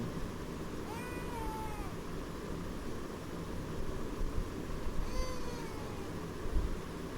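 A kitten meows in the horror video game The Baby in Yellow, two clear rising-then-falling mews about four seconds apart over a steady hiss of background noise.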